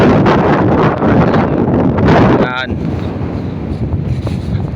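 Strong wind buffets the microphone at a seaside camp overlooking the sea, a steady loud roar with gusts, while someone talks over it.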